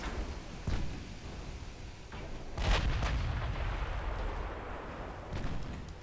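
Naval guns fire in a 1920s British warship battle game as a few heavy booming salvos, the loudest near the middle, with lower thuds before and after over a rumbling background.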